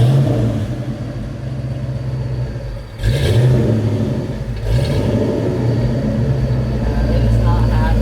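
A loud Fox-body Ford Mustang engine running open headers drones steadily, rising in two brief revving surges, with a rough, rumbling exhaust tone throughout.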